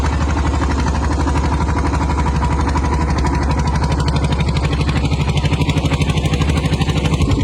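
An outboard motorboat engine runs steadily on the Narmada river at Chanod, a loud, continuous close-up drone with a rapid throbbing pulse that grows more pronounced toward the end, with no talk.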